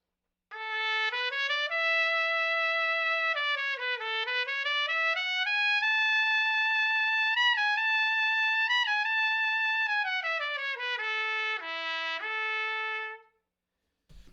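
A piccolo plays a slow, continuous melodic line in its lower register, notes gliding up and down with sustained, clear tone and no pauses.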